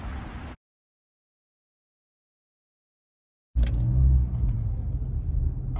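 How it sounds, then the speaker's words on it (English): A car drives along a street, its low engine and road rumble cutting in after a stretch of silence and then holding steady and close. "All right, so we are driving into Murphy's house."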